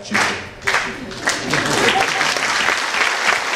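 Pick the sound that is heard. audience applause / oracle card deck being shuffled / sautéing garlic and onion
audience applause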